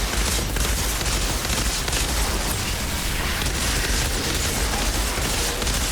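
Gunfire and explosions in the Trickster skill section of a shooter game, a loud, continuous barrage of shots and blasts that fills the whole stretch without a break.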